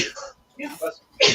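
A single sharp sneeze bursts out at the end, right after a few quiet words of talk, during a livestreamed tabletop roleplaying game session.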